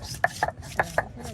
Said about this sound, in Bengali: এই গরম মশলাও বাটা হচ্ছে